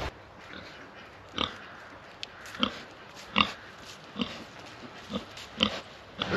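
Pigs in a pen at Old Buckenham County Park campsite giving short grunts and snorts, a series of about ten separate bursts spaced irregularly, fairly close against quiet outdoor background.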